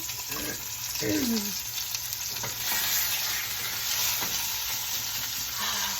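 A loaded pork roast sizzles steadily in a hot pan after being flipped, a constant bright hiss with faint bits of voice murmuring underneath.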